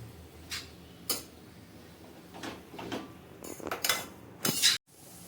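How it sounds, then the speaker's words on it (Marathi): Grated carrots sautéed in ghee for gajar halwa, with a series of irregular spoon scrapes and clinks against the pan that grow busier toward the end, fairly quiet and close with no talk. "दोन मिनिटं आपल्याला परतून घ्यायचे तुपामध्ये ना."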